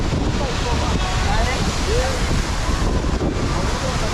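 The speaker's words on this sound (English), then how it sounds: "I want to know how high this waterfall is" Yadim waterfall in northeastern Nigeria gives off a constant broad roar of rushing water, mixed with gusty wind buffeting the microphone and holding steady throughout.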